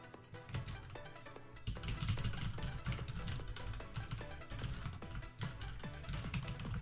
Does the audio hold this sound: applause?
no